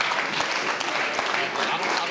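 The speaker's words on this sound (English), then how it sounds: "Give them a round of applause here just to thank them for leading us." An audience at a community summit gives a round of applause, full and continuous crowd clapping with no pause.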